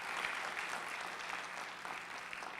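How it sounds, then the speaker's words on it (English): At a youth volunteer awards gathering, an audience applauds a young volunteer, giving a short, continuous burst of soft, even clapping at low volume. "please give a round of applause"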